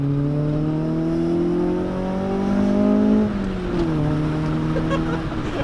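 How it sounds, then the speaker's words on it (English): A 1989 Honda Civic EF hatchback engine revs hard from inside the car, its pitch climbing steadily through a gear, dipping at a shift and rising again, loud and close. "It loves to rev."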